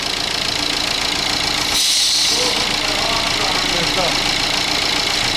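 An Opel Insignia's turbocharged 1.3-litre four-cylinder engine idles with a steady low rumble and faint knocking, briefly rising in pitch for a moment before settling back.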